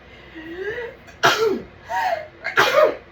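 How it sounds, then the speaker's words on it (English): A close, explosive sneeze sound, a nasal burst, and a second sharp sneeze in quick succession after a quiet breathy lead-in. "I'm going to sneeze one moment."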